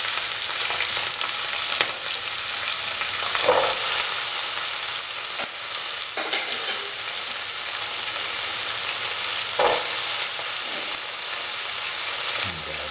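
Pumpkin pieces frying in a hot pan give a steady, close sizzle and crackle with a few soft stirring scrapes, continuous throughout and free of any talk.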